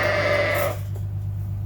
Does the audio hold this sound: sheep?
yes